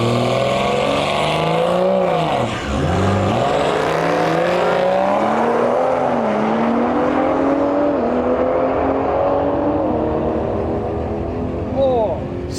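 Toyota Supra drag car launching down a quarter-mile strip, engine screaming up through several gears with sharp dips at each shift, loud and continuous before fading slightly into the distance.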